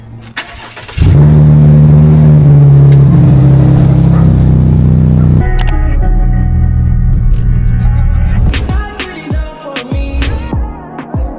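A car engine starts and revs loudly with a deep, sustained roar, then settles into a rough, uneven rumble with sharp knocks and clatter toward the end, heard close by without talk.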